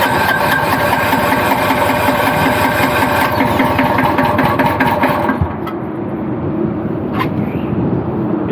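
A diesel engine on a machine cranks without catching, a loud rapid starter chug for about five seconds before it stops, leaving a quieter background hum.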